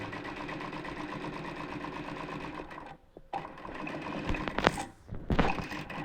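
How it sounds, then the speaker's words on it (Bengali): A sewing machine runs a long seam on a round-neck front-button nighty, whirring steadily up close, then pausing briefly before starting again in short bursts with light mechanical clunks. "দেখুন কীভাবে সেলাই করছি, জাস্ট একটা সেলাই দিয়ে নিয়ে চলে আসবেন।"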